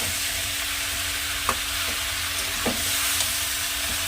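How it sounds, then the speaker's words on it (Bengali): Pieces of pumpkin and pointed gourd fry in hot oil to brown, with a constant loud sizzle and occasional light taps and scrapes from stirring. "কুমড়ো পটলটা লাল করে একটু ভেজে নিতে লাগে"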